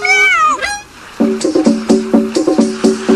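A cat gives two clear, close meows in quick succession, followed by a light, rhythmic run of plucked musical notes.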